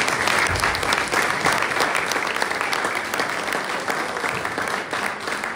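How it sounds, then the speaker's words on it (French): A French political gathering in Aulnay-sous-Bois breaks into dense, sustained applause from a large audience, steady and loud for the whole stretch without letting up. "J'aimerais qu'on l'applaudisse"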